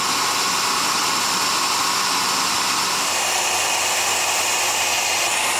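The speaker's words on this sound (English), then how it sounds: "So now that that hole's drilled" A power drill bores a hole while building a homemade push-through log splitter, a loud, steady, continuous whir that shifts slightly in tone partway through.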